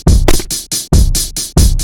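A punchy producer drum beat loops loudly, heavy kicks with bright snare or clap hits landing in a steady repeating rhythm, no voices.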